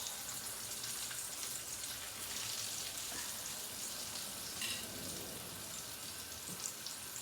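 Chicken fillet pieces frying in oil for homemade burgers, a soft, continuous crackling sizzle with fine spattering pops, faint and steady with no voices.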